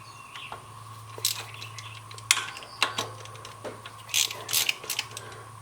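A ratchet backs out bolts from the secondary base plate of a 1964 Ford Falcon carburetor, giving short bursts of clicking and metallic ticks spaced irregularly over a steady low hum, fairly close.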